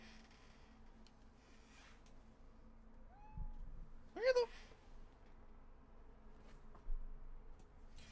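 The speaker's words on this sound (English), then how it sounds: "I heard a cat meow." A single short cat meow rises once midway, moderately near, against a quiet room with a brief word of speech earlier.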